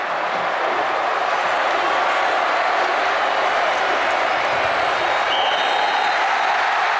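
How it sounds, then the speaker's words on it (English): A packed stadium crowd roars continuously at a 2005 Miami versus Florida State college football game, a dense, loud, sustained wall of cheering and applause with no breaks. "And this crowd will erupt."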